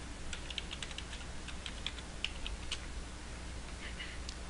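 A password is typed on a computer keyboard, a quick run of light, close clicking keystrokes in an irregular rhythm over a quiet background.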